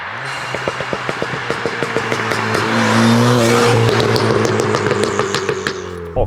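Ford Fiesta ST on a stage 2 map, its engine revving loudly up close while the exhaust fires a rapid run of popping and banging crackles that continues as the revs rise and fall.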